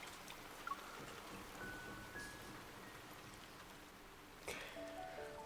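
Steady rain in the video game Love and Deepspace, a soft, even hiss of falling drops that runs without pause, with a couple of faint chime-like tones floating over it.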